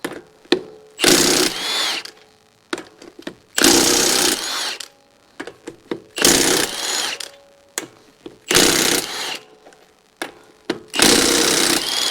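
An impact gun zeroes in on 22mm lug nuts on a 2010 Chevy Camaro SS, firing off several loud, rattling hammering bursts about a second long each, separated by short pauses and clicks, close by with no talk.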